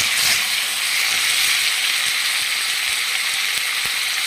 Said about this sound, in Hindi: ये सब्जी मैंने काट दी है, तेल भी डाल दिया है, फटाफट से इसको फ्राई करते हैं।